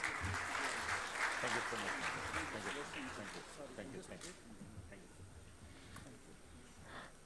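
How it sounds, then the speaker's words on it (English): Conference audience applause, a dense patter of many hands clapping that starts strong and gradually thins and fades, with a voice briefly audible near the end. "Ladies and gentlemen, please have a big round of applause."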